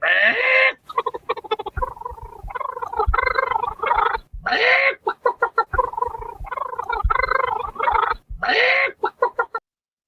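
A chicken clucks in a busy sound effect: rapid, choppy clucks broken by several louder drawn-out squawks, close and loud throughout with no talking.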